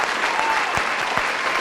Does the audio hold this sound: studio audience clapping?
yes